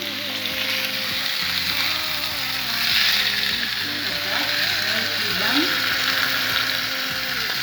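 Rump steak sizzling loudly in a pan just after being flipped, a dense continuous hiss and crackle with occasional scraping, low background hum and a voice speaking intermittently over it.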